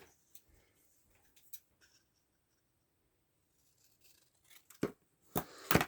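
Scissors cutting through paper for a handmade journal pocket: a few faint rustles at first, then a quiet gap, then several close, sharp snips bunched at the end.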